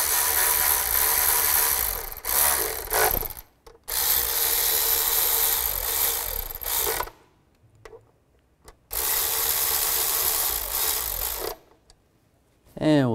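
Bolts on the MAP sensor of a 2005-2010 Chevrolet Cobalt being snugged down with a hand tool, giving repeated close ratcheting and rubbing bursts separated by short pauses.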